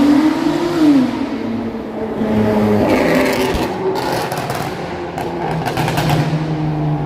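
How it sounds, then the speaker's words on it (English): A stupidly loud car passes on a downtown Toronto street at night, its engine roaring and revving close by, then fading under traffic rumble and scattered street noise. "That's a stupidly loud car."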